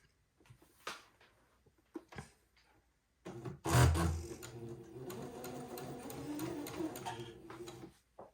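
A sewing machine stitches rows of basting on fabric for a little white dress. A few soft taps come first, then a sustained whirring run of several seconds, close and clear.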